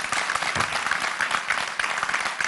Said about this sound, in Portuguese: Rei Loi, para o nosso aplauso!